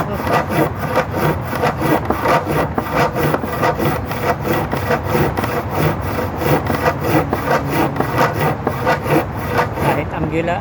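Rhythmic back-and-forth strokes of a hand saw cutting through a wooden fascia board for repair, loud and close, with steady even rasping repeated through the whole stretch.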